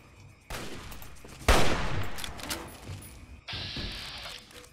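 Gunshots in Fallout 3, with several loud bursts of firing, the strongest a sharp blast with a long noisy tail, separated by brief quieter gaps and followed by a hissing burst.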